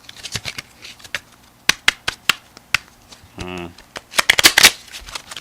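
Tarot cards are shuffled in quick, crisp bursts of riffles and taps, with a brief voice in the middle.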